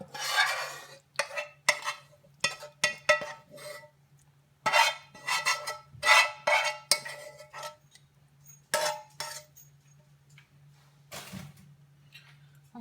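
Homemade pizza sauce spooned onto a pizza base, with a series of soft, wet scrapes and taps of a spoon that come in short irregular bursts, close up and with no talk.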